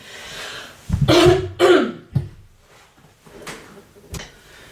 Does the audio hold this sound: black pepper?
no